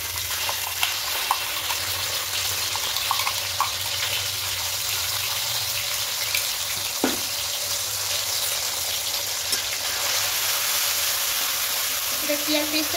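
Onion paste sizzling as it drops into hot oil in a pan while making ilish pulao, a steady, fairly soft frying hiss that lasts throughout, with a few light clinks and a voice speaking over it.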